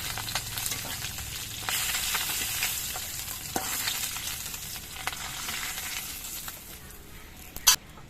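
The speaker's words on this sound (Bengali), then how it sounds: "বাকি মাছগুলো ভেজে নিচ্ছি" The remaining small khoira fish frying in oil in a wok, a steady close sizzle broken by stirring scrapes and a sharp clatter near the end.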